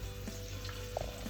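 Green chile potato latke frying in hot oil as it is flipped, giving a brief, faint, steady sizzle with a soft bump of the turn.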